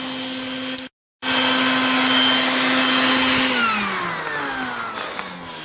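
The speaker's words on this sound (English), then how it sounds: "That's my little Stinger vacuum there that I use there in the garage." A small Stinger shop vacuum attached to a frozen sump pump outlet pipe roars loudly and steadily, cuts out briefly, then restarts and its pitch slowly drops as the flow changes.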